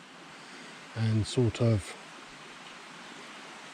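A river on Dartmoor flows in a steady, even wash of water noise throughout, with a short burst of nearby speech in the middle.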